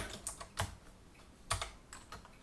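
Computer keyboard keys tapped while typing code, a few soft clustered keystrokes in two short bursts, close and fairly quiet with no talking.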